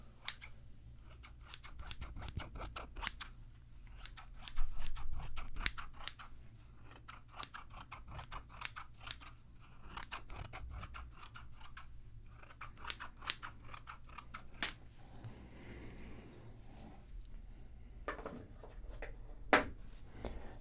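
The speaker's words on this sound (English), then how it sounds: "Some other scissors." Repeated crisp snips of scissors cutting, a rapid run of close clicks and crunches that pause and resume, with a steady low hum underneath.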